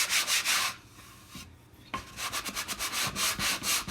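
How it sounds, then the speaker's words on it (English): Rough, rhythmic rasping of a block sanding wood, with quick back-and-forth strokes, a brief pause, then faster strokes up close. "I'm just going to sand it really quick."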